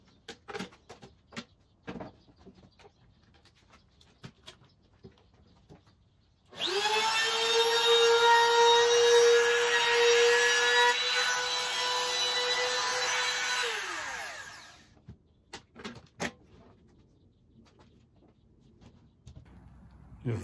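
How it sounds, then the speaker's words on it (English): A handheld router cuts a chamfer along the edge of cedar boards for a raised planter box, a loud steady whine running about eight seconds alone, framed by quiet handling clicks and knocks before and after. "I'm gonna use the router here and put a little chamfer on the edge"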